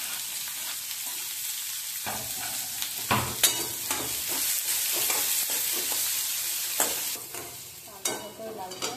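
A medium-sized chopped onion sizzles in a pan, with bright steady frying and repeated scraping strokes of a spoon stirring it.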